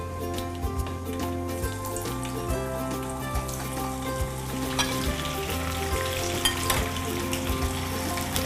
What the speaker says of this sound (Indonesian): Nanti kita goreng sampai setengah matang aja.